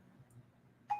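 A mobile phone gives a short electronic beep near the end, cutting in over quiet room tone in a painting session.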